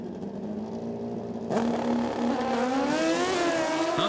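Drag racing motorcycles at a FIM NitrOlympx event rev on the two-step, then launch together with a sudden burst of loud engine roar that rises in pitch as they pull away.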